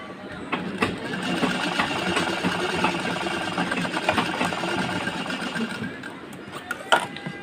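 A sewing machine running steadily while double-stitching a blouse, a continuous close mechanical whir with fine rapid ticking, with a few clicks near the end.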